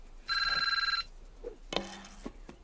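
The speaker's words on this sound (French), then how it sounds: "Une sonnerie de téléphone qui trouble Michael Keaton dans Mes doubles" An old-style telephone bell rings in a short steady trill within a film scene, then stops, followed by quieter scene sounds and a brief tonal sound.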